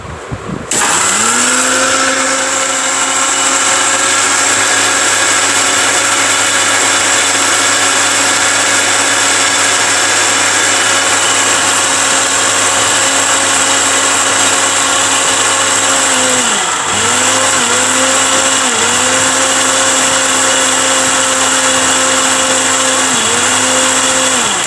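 Electric countertop blender grinding a paste, a loud steady motor whine running nearly continuously, with a few brief dips where the load shifts before it resumes at full speed.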